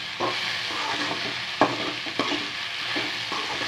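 Okra stir-fried in a pan with chili powder, a constant close sizzle broken by a few sharp scrapes of the spatula against the pan.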